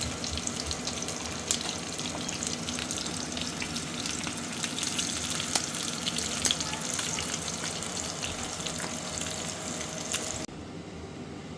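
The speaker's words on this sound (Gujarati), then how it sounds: "તો જો આપણી ડાળની કટકી છે ને ફ્રાય થઈ ગઈ છે" Dal pieces frying in oil, a continuous close sizzle with crackles and occasional clinks that runs for about ten seconds before abruptly dropping to a quiet hiss near the end, with no speech.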